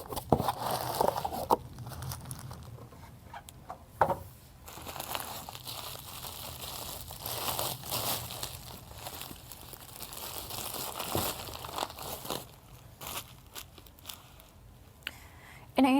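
Crinkly plastic packaging bag around a fuel injector being handled, giving intermittent crumpling and rustling bursts with a few sharper crackles, close by, while a person talks over it.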